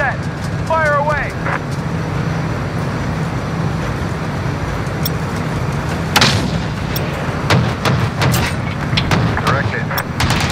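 A 105 artillery gun fires in a military video game, with loud booming shots over a constant roar of engines and battle noise, and a few sharp reports rising out of the dense rumble.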